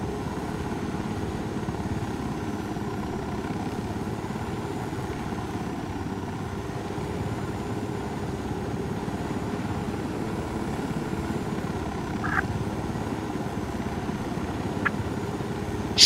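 Helicopter in the video game Tom Clancy's Ghost Recon Wildlands, flying at night, heard as a continuous, steady rotor and engine drone with no breaks.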